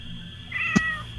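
A single short cat meow rises clearly out of quiet room tone, close and fairly soft, with no voices over it.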